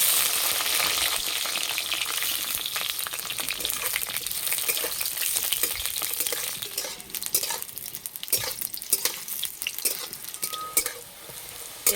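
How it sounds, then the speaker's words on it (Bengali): Eggplant pieces fry in mustard oil in a wok over a stove, a dense, steady sizzle with stirring scrapes and occasional utensil clatter throughout. "তেলের মধ্যে প্রথমে আমি বেগুনগুলো দিয়ে দেবো।"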